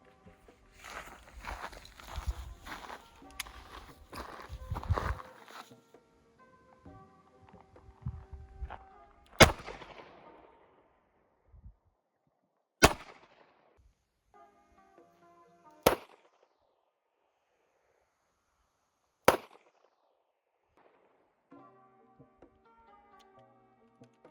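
Gunshots fired at a 3A+ ballistic helmet during testing outdoors: four sharp, loud cracks spaced several seconds apart, each with a short echoing tail, after a stretch of handling noise and clatter.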